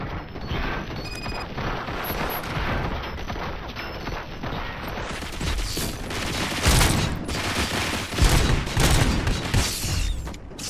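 Sustained heavy gunfire in the RoboCop: Rogue City video game, a dense continuous barrage of shots and impacts with occasional louder bangs, with no gaps over its whole length.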